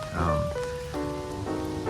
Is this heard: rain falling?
yes